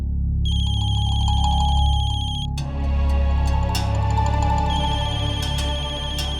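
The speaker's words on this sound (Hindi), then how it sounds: "फोन की आवाज तो यही कहीं से आ रही है" A phone ringtone plays loudly and continuously, a repeating electronic melody that shifts pattern midway, with no talking.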